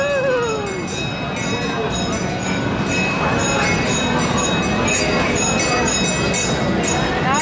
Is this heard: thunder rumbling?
no